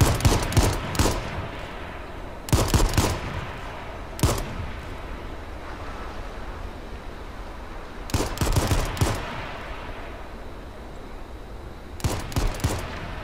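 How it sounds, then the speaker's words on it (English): Gunfire in the battle royale video game H1Z1, with repeated loud bursts of rapid automatic shots separated by quieter pauses. "Oh, we're shooting."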